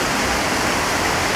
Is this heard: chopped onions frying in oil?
no